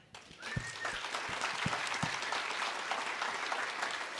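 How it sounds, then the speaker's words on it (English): Applause from a summit audience for a panelist in Ottawa, a dense, steady wash of clapping throughout, with a few louder claps and a faint whistle-like tone near the start. "Lots of clapping."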